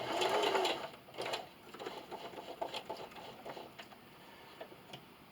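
A sewing machine stitches a burlap garden flag, its rapid needle chatter loud at first, then continuing more softly in bursts with small clicks, close by and without speech.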